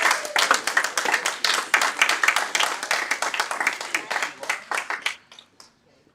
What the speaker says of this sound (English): Please give a great round of applause to Linda Huynh.